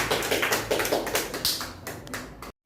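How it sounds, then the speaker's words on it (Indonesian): Classroom applause from students for a classmate after a presentation, dense rapid clapping that stays steady for over two seconds, fairly close, then cuts off abruptly. "Berikan aplaus dulu untuk Betania."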